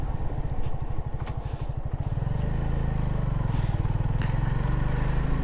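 A motorcycle rides along a road at midnight in cold weather near a railway line, its engine thrumming in a close, rapid pulse that slows and smooths into a steady drone, with occasional clatter.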